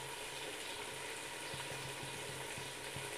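Spices fry in a pan for fish biryani, Kashmiri red chili, hot chili, chili flakes and cumin powder among them, giving a steady close sizzle with faint stirring taps throughout.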